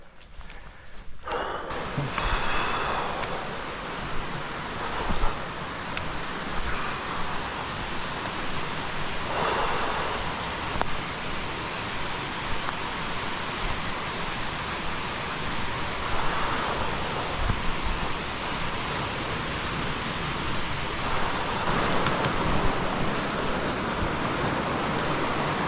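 River water rushing at a trail river crossing makes a broad, steady roar that continues without a break, with occasional louder surges and breathy gusts close to the microphone.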